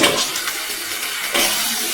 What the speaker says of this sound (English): Alex hears water running from all of the taps